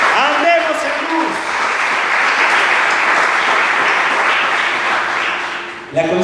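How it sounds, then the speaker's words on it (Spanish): A congregation in a church service claps, a loud, sustained burst of applause that starts as a voice trails off and fades near the end. "Le dan un fuerte aplauso al Señor."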